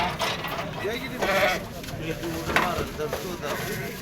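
Sheep bleat repeatedly at a busy livestock market, several short wavering calls rising over a bed of crowd chatter and nearby voices of people talking.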